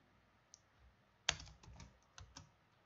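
Quiet, close computer keyboard typing while entering Solidity code, a handful of sparse key clicks with one sharper press and a couple of light taps after it.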